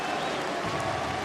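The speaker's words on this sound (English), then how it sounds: "You just got to appreciate that crowd." An esports arena crowd at the Overwatch World Cup 2018 Paris Qualifier, steady dense cheering and applause roaring without pause, heard as if from a distance.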